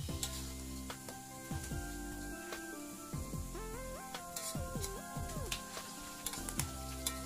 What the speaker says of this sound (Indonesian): Nah, ini saya lagi goreng tempenya.